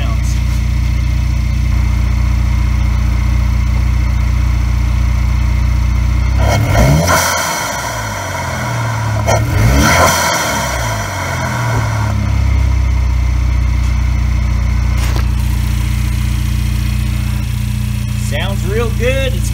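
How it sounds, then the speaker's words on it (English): A Cadillac ATS AWD with a 2.0 turbo engine and an intake modified for more air, with panels in front of the grille removed, hums steadily at idle, with two short revs swelling and fading midway. "Let's listen to how my intake sounds."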